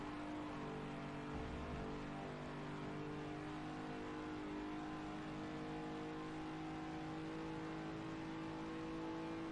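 A Ford Mach 1 race car at speed on the Watkins Glen circuit, its engine a steady, fairly faint drone heard from inside with a constant whir and no clear shifts.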